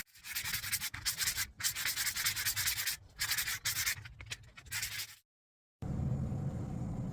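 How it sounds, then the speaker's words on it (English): Sandpaper held in a small curved block scrubs a hickory golf shaft in quick, rhythmic back-and-forth strokes, close and steady, broken by a few short pauses and a brief silence before a duller rubbing noise. "I'm going to try to get it down a little bit more, and then I'll sand it."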